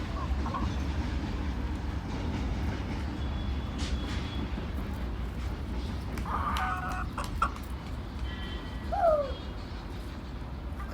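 Roosters and chickens cluck and call in a farmyard, a few scattered clucks and crowing notes rising at mid distance over a steady low background rumble.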